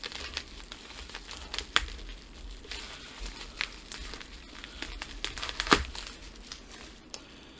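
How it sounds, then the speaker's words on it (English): Packing tape and bubble wrap are cut and pulled away from a newly delivered book, giving faint, close crinkling and scattered crackles with a few sharper tearing snaps. "I'm afraid I'm going to cut the book trying to cut through the tape and the bubble wrap."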